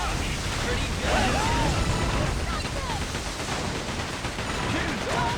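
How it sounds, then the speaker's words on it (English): Ship cannons firing in the video game Like a Dragon: Pirate Yakuza in Hawaii, dense booming blasts over a steady roar of sea and wind, with voices speaking under the noise. "Cannon blast."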